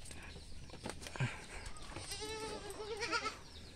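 A goat bleats on a farm in a quavering, wavering call that rises out of the mix partway through, with some rustling and background noise around it.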